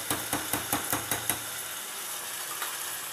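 Ginger chicken frying in a pan, a steady hiss of sizzling oil under a quick run of rhythmic spatula clinks against the pan that then stops, leaving the frying alone.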